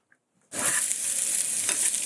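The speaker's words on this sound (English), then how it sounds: "fry it a little bit in a frying pan with some oil" After a moment of silence, a loud hiss of food frying in hot oil in a frying pan starts suddenly and keeps sizzling steadily up close.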